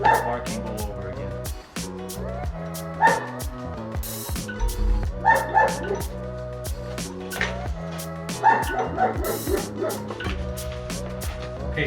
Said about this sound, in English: So that's why he's barking all over again